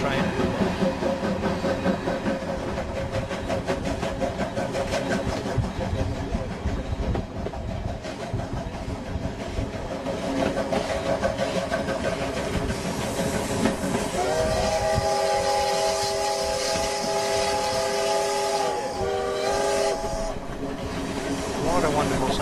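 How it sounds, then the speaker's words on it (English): A local train hauled by a mainline electric engine rolls through a station, with a continuous rumbling, clattering run of wheels and carriages and a long, loud tonal whistle sounding in the latter part. "Passing through another station with the mainline electric train or engine on the front of a local train."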